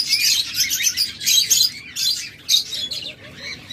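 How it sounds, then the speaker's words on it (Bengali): A pair of Japanese finches sitting on eggs chirp in a busy run of short, bright, overlapping tweets, close and steady, with a low background hum and no voices. "এখানে রয়েছে জাপানিজ ডিমে বসা পাখি"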